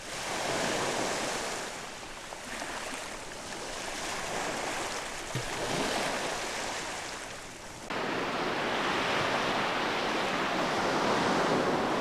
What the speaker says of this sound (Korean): 잔잔한 봄바다의 해류다